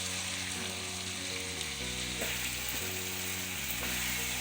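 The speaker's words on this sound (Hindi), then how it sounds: "इसमें अच्छी तरह पका लेते हैं।" Chopped tomatoes cook in a pan for chicken keema, with a steady loud sizzle and frying hiss close by and occasional stirring scrapes, with no talking.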